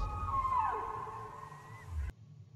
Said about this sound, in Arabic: والصوت السادس صوت حوت.